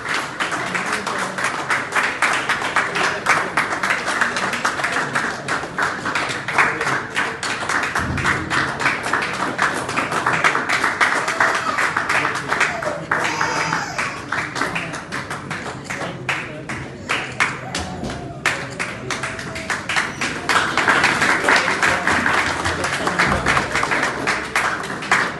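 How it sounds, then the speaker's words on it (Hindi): Sustained loud applause fills a hall as an audience claps continuously to honor guests at a ceremony, with a dense, steady roar of hands and some voices mixed in. "इन चारों लोगों के लिए जोरदार ताली"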